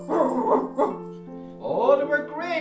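A voice imitates an Irish wolfhound barking during a game of hurling: a few loud, close, rough woofs and yips in quick bursts, a short pause, then another run of whining barks.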